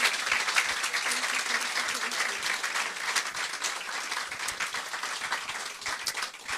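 Audience applause at a book event for an author, a dense, steady wash of many hands clapping that carries on throughout at moderate level, with no talking.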